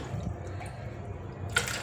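Water poured into a pot on the stove for a homemade natural hair dye, a brief close splashing fill with a sharper splash near the end, no talking.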